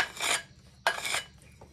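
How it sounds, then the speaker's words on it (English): Two scraping strokes of a steel lawnmower blade drawn by hand across a stationary, switched-off grinding wheel, each a brief gritty rasp close by, with a short pause between. "just take your blade and rub it on your grinding wheel"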